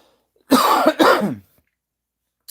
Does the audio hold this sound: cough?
yes